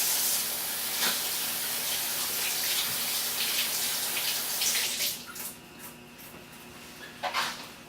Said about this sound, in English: I'm kind of a stickler on washing my hands after handling raw eggs.